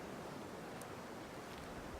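Atlantic Ocean waves heard from a distance as a faint, steady broadband wash of surf, with wind noise blending in and no voices.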